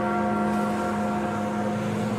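Big Ben, the great bell in the London tower, ringing in the video game Peppa Pig: World Adventures; one sustained, loud, resonant toll with rich humming overtones that fill the clip, no voices.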